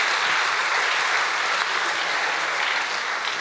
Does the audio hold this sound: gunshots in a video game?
no